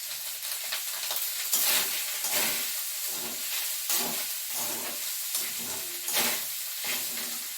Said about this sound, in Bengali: দিয়ে একটু নাড়াচাড়া করে তারপর ভাতগুলো ঢেলে দিচ্ছি